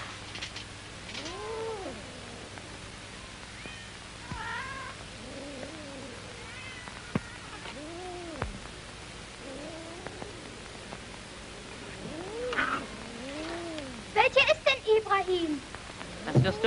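Cats meowing indoors, a series of drawn-out meows and wails from more than one cat spread across the scene, moderately close, with a faint background hiss and some clattering near the end.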